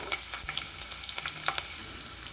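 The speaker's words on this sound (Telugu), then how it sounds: "ఎల్లిపాయలు మొత్తం ఇలా బ్రౌన్ కలర్లో వచ్చేంత వరకు అయితే వేపుకోవాలి" Chopped garlic fries in hot oil in a pan for an egg curry, giving a steady, fairly quiet crackle and sizzle scattered with small sharp pops, with no voices.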